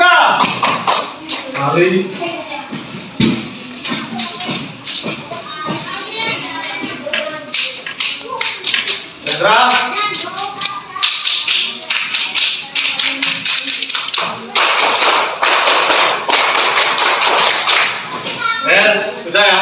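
A group of children at school performs a rhythmic Indonesian scout clap, sharp claps and taps in quick patterned bursts with children's voices chanting and shouting throughout.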